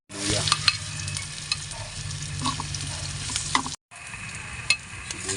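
Ginger sizzles and fries in a hot pan while being stirred for pork adobo, a steady close crackle with brief utensil scrapes and a short break near the end.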